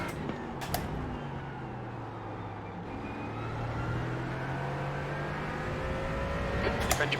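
A Mercedes GT4 race car engine in a racing video game at Motegi drones steadily throughout, its pitch shifting gently as it holds speed, with a few sharp clicks near the start and end.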